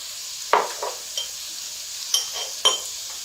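Onions with white cumin seeds sizzle softly in a pan for potato samosa filling, with several distinct scrapes and clinks of a spoon stirring at irregular intervals, close by.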